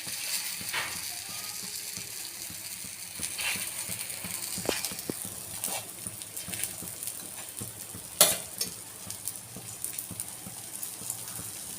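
Malpua made from wheat flour fry in oil in a pan, a steady close sizzle running throughout with scattered sharp pops and crackles, including one louder burst near the end, and no talk.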